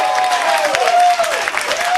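A studio audience at a Fox political news program applauds in a steady wash of clapping, loud and continuous across the whole stretch, with a faint tone running through it.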